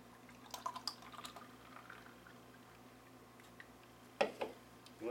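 Bitburger Premium Pils is poured into a pilsner glass, with faint splashing and fizzing trickles early on, then a couple of louder pouring bursts near the end over a quiet, humming background.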